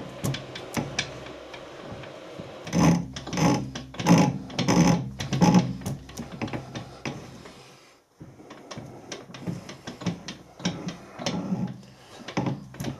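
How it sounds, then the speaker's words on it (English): Metal being turned on a lathe with a hand-fed high speed steel tool ground to a chisel point, giving rhythmic scraping and chattering bursts that pause briefly before resuming at a steady close-up level, with no voices. "It's basically a bit of high speed steel sharpened like a chisel point, and all you do is"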